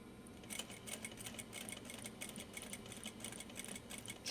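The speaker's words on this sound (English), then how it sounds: "Trying to get my top stitching fairly neat" A sewing machine top stitching a zipper pouch in a home sewing room, a quiet, steady, rapid needle patter running without a break under a soft motor hum.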